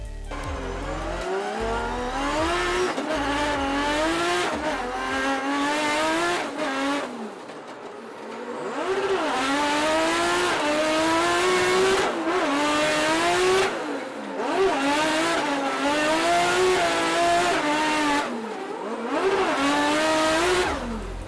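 Drift cars at over 100 mph on the Riga circuit during a DMEC 2018 qualifying session roar through the first corner, engines screaming and revving hard in repeated rising surges with brief lifts between them, loud and close.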